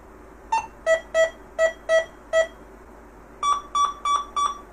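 Short electronic beeps from a Minelab Go Find 60 metal detector passed over a dime, nickel and quarter, in a steady two-tone series: six mid-pitched beeps, a pause, then four higher beeps, clear and close with a quiet background.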